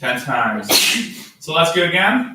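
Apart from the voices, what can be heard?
sneeze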